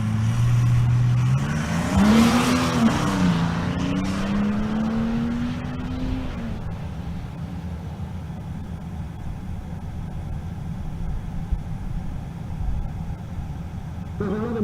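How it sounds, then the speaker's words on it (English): A V12 Mercedes twin-turbo drag car at a race-week event, its engine a loud droning roar that rises in pitch and then sustains as it pulls away down the strip, with crowd noise behind. "Meanwhile, the V12 Mercedes twin turbo in the left lane."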